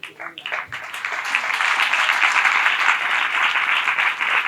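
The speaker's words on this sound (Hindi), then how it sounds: "ये तालियां बजाना हमारे लिए था।" Church prayer meeting congregation breaking into applause for visiting brothers, building quickly from a few claps into a full, steady round of clapping that stays loud to the end.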